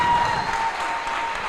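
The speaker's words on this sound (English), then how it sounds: "Everyone gets 2 rounds of applause." A burst of audience applause at a Porcfest event, dense clapping from a crowd indoors that holds steady and eases slightly toward the end.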